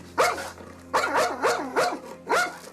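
A police dog at an airport barks in four loud, evenly spaced bursts close by, each bark sharp with a slightly whining edge.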